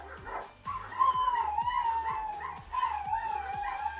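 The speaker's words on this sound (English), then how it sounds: "Can you tell the dogs to be quiet?" Several dogs indoors bark and howl together, loud and close, with a sustained wavering howl over a steady series of sharp rhythmic barks.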